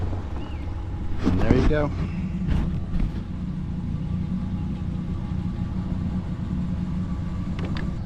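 A Tracker Panfish 17 boat's outboard motor runs in reverse to back off a trailer: a low, steady idling rumble with wind noise, and someone speaks briefly early on.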